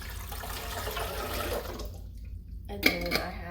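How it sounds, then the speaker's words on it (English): Cold water chilled in the fridge pours into a blender with a continuous close splashing that stops, followed by a couple of sharp clinks. "I'm going to pour that in my blender."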